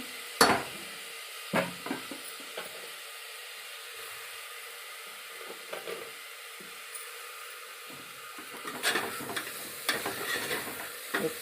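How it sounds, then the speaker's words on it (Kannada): Chopped tomatoes go into a hot pan for tomato bath, giving a soft, steady sizzle broken by scattered clinks and scrapes of a spoon stirring against the pan, quiet and close. "ಹೆಚ್ಚಿಟ್ಕೊಂಡಿರೋ ಟೊಮೆಟೊನ ಸೇರಿಸ್ಕೊಳ್ಳೋಣ"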